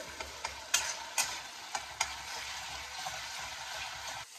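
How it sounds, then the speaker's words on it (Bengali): A chana dal mixture fries in a pan with a steady, soft sizzle. Light scraping stir strokes tap through it at a loose, uneven rhythm. The sound is close and fairly quiet, and no one speaks. "যত এটা ভালো করে ভাজা হবে তত জিনিসটা খেতে ভালো লাগবে"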